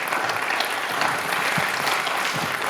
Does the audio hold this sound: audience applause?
yes